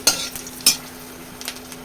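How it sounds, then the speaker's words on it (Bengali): Dried red chilies fry in hot oil while being stirred. There are scraping stir strokes, a soft sizzle underneath and two sharp crackling bursts near the start, all close and fairly quiet with no talking. "একবারই ফাটলো একটু আর ফাটেনি লঙ্কাটা ভাজা হয়ে গেছে"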